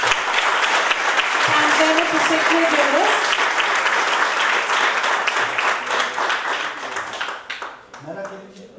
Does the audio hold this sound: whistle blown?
no